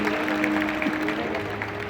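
An audience applauds at a live Hindi poetry program: dense, continuous clapping from a large crowd fills the whole stretch, with a faint tonal hum beneath it.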